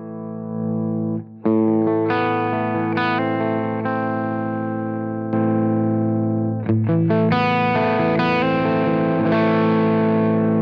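An electric guitar plays through a Taurus SH8 Qube amplifier with no boost, sustained distorted chords and ringing notes with a gap early on, loud and alone, with a chorus-like shimmer.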